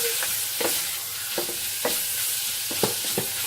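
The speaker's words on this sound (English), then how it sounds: "Let's cook off this bacon." Bacon frying in a pan gives a steady close sizzle, with brief scraping stirs landing at irregular intervals and no talking.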